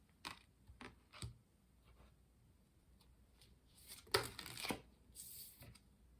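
Tarot or tea leaf cards being shuffled and pulled, a series of soft, close riffles and flicks followed by a louder burst of card shuffling, quiet overall with no talk.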